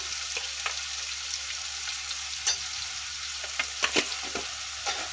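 Onions and tomatoes frying in a pan with turmeric and chili powder: a steady soft sizzle with a few sharp clicks of a spoon against the pan, no voices.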